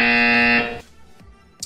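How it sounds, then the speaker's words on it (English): A loud, steady electronic buzzer sounds for about half a second as a signal in an online guessing game, then cuts off, leaving faint background noise. "You will hear a buzzer."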